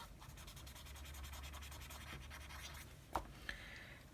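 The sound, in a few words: Q-tip rubbing soft pastel on paper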